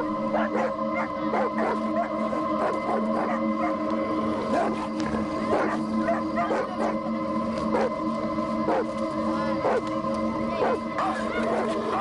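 Several dogs confronting a hooded, venom-spitting cobra, barking and howling almost without pause, loud and close, with overlapping yips in a busy, continuous chorus.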